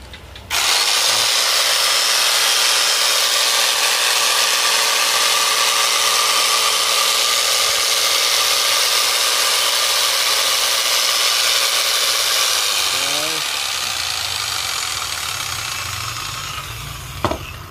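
A Makita scroll saw, a Japanese-market 110 V power tool, runs with a steady, loud motor whine for about twelve seconds, then winds down and fades out. No one speaks.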